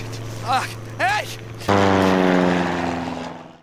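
A propeller airplane drones loudly overhead, its engine tone sliding in pitch and fading steadily as it flies away, with a voice calling out briefly before it.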